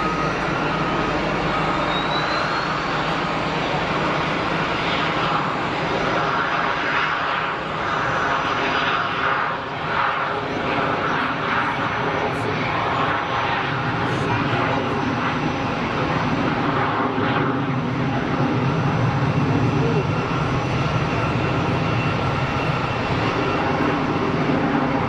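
An airplane climbs steeply away from Geneva Airport with a loud, sustained engine roar. The roar stays heavy and even for the whole stretch, swelling slightly near the end.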